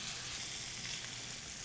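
Chicken pieces browned with rosemary sizzle and fry steadily in a pot for braising with red wine, a dense, continuous hiss close by with no talk.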